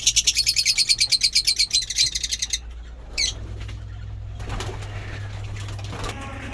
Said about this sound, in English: Lovebirds, avairy.